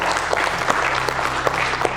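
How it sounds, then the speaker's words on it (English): Audience clapping for presenters at a live event, a short steady burst of applause with scattered sharp claps, fairly close and loud. "Hey, another round of applause for Ernest and Ryan."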